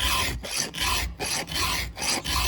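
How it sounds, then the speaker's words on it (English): A large hand file rasps across chainsaw teeth held in a vise, in loud, close, rhythmic strokes of roughly a third of a second each with short breaks between them. "these big files will cut through a little tiny bit"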